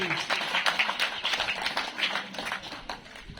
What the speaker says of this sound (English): A round of applause for our guests, please.